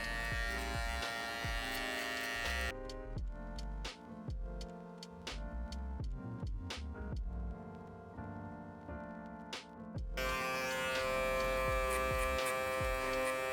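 An electric shaver buzzes loudly during a barber's taper fade haircut. The hum runs steadily, breaks into a stretch of short taps and clicks in the middle, then comes back at full strength.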